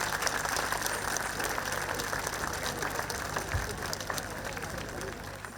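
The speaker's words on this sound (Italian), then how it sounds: "Salutiamo con un applauso forte i danzatori, le danzatrici, musicisti, cantanti, tutto il gruppo." Audience applause for a troupe of folk dancers, musicians and singers at an international folk festival evening in Sestu, a steady dense clapping wash that fades slightly toward the end.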